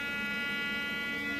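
A steady electric toothbrush hum in massage mode, a constant high-pitched buzz with a dense stack of harmonics that runs unbroken and close for the whole moment, with no voices.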